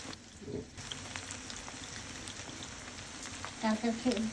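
Pakora batter drops into hot oil and fries with a steady bubbling sizzle, with louder crackling bursts near the end and a voice faintly present.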